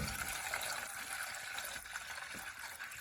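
Water poured out for farm animals on a cold day, a soft continuous splashing trickle with faint background noise and no talk.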